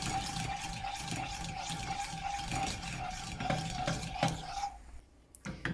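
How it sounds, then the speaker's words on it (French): A spoon stirring orange curd cream in a pan as it thickens, with continuous soft scraping and swishing, faint rhythmic taps against the pan, and a brief quieter pause near the end. "En remuant, il faut remuer."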